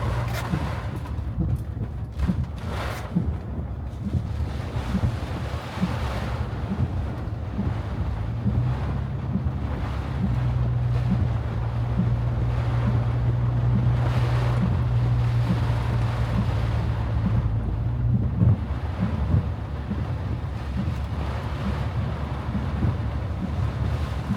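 Storm surge floodwater and strong wind sweep across flooded downtown Fort Myers Beach during Storm Debby, a steady roar of surf and gusts buffeting the microphone throughout, with no voices.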